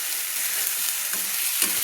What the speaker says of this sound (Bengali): একটু কষিয়ে নিচ্ছি মশলার সঙ্গে